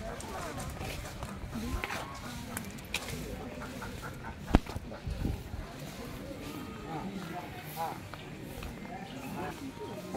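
Chickens at an agriculture theme park, with turkeys and geese kept nearby: scattered clucks and fowl calls come through under almost constant conversation, with a few sharp knocks and footsteps.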